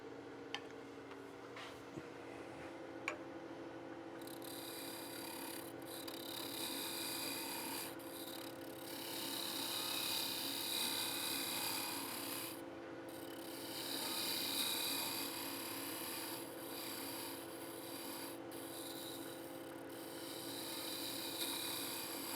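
A wood lathe cuts a taper on a turned wooden box, giving a steady raspy scraping with a constant motor hum underneath and a few small clicks, close and fairly quiet throughout.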